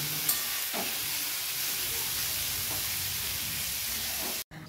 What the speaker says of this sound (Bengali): এবার আলু ভাজার মতো পেঁপেটাকে ভাজবো, চলো ভেজে নিই।